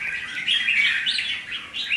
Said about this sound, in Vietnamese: Chim thì chim của núi đá Đặng Sơn.